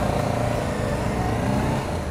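Honda CB500F motorcycle from 2014, a steady loud engine drone with a low throbbing rumble, heard close up with no talking.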